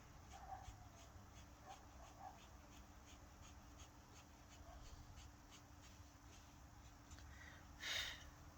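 Dogs whimper faintly in the background with soft, intermittent whines and yips over a low steady hum, and a brief louder scratch comes near the end.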